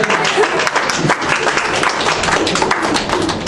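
Audience at a manga-making convention panel bursting into steady, dense clapping, close and loud throughout, with some voices mixed into the applause.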